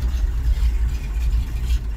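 A GAZ 53 truck engine idles while warming up, a low steady rumble with slight pulsing, close and uninterrupted by talk.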